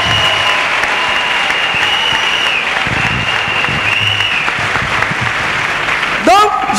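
A church congregation claps in a steady, dense wash of applause that runs throughout, with a voice rising over it near the end.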